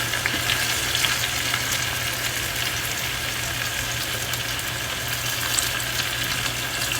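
Sourdough French toast fries steadily in a pan, with a dense continuous sizzle and faint crackle that stays even and close throughout, with no talking over it.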